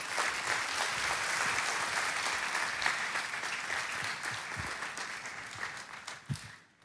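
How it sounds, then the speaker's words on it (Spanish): A church congregation gives a loud, sustained round of applause, many hands clapping together in a thick, continuous roar that gradually thins and fades out at the end. "¿por qué no le damos un fuerte aplauso?"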